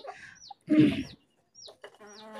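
A hen clucks in a backyard poultry flock, giving a few short, close clucks and squawks with brief quiet gaps, along with faint higher calls from other birds nearby.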